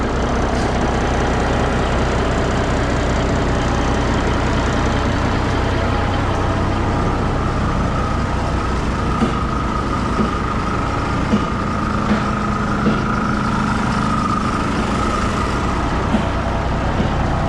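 A Peterbilt truck engine warms up at idle while parked in a mud hole, a steady, continuous diesel rumble held close and even for the whole stretch, with no talk over it.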